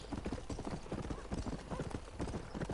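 Horse hooves clip-clop at a steady trot in Red Dead Redemption, a close, continuous rhythm of quick hoofbeats over a busy game backdrop with faint voice-like sounds mixed in.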